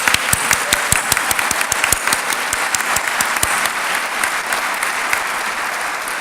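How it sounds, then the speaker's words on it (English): A fall convocation audience applauding graduating advertising majors: sustained clapping from many hands, steady and fairly loud throughout, with no talk. "How about a round of applause for our ad majors?"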